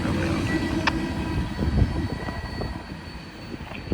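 CSX freight train M351 rolling south at MC Cabin, a steady low rumble of rail cars with occasional clanks and squeals, moderately loud and continuous with no talking.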